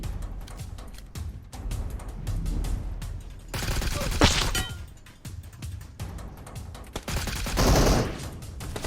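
Gunfire in a battle royale video game, bursts of rapid automatic shots with sharp cracks and heavy low thumps, coming in clusters of varying loudness, some close and punchy, others softer.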